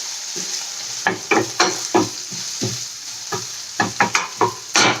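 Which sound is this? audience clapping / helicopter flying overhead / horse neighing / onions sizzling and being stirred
onions sizzling and being stirred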